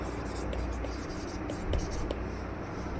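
A graph being drawn by hand with a pen or pencil during a linear regression lesson: soft, close scratching strokes with a few short taps over a low background hum.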